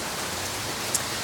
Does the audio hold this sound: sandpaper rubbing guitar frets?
no